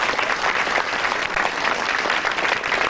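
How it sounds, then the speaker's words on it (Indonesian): Sustained, dense audience applause at a stand-up comedy show, loud and steady throughout with many hands clapping at once and a faint crowd murmur underneath. "Tepuk tangan buat Maison."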